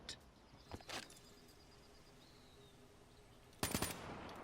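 KN-44 assault rifle fire in Black Ops 3, heard as short faint bursts near the start and a sharper louder burst toward the end, over a quiet game ambience with a soft chirp.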